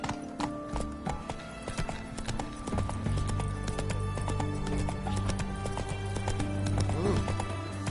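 Roach, Geralt's horse in The Witcher 3, gallops with fast rhythmic hoof clip-clops, loud and close, while game music and ambience play underneath.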